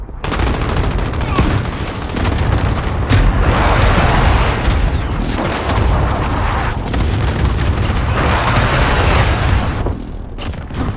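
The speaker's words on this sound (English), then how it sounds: "Enemy precision airstrike inbound." Loud, continuous barrage of gunfire and booming blasts from a video game precision airstrike, dense and sustained throughout with repeated heavy impacts and crackling bursts.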